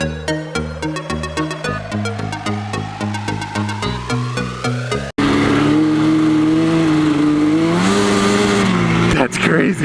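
A Yamaha Banshee 350 two-stroke ATV engine revs loud and close on a trail, a harsh, steady roar that takes over abruptly after several seconds of rhythmic, stepped tonal sound.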